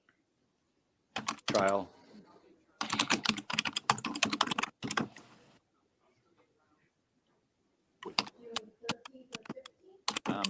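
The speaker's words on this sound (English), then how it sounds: "Who is that typing?" Rapid clattering bursts of typing on a computer keyboard, close and crisp, come in several runs separated by silent pauses, with a brief word spoken near the start.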